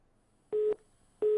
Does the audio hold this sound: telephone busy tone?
yes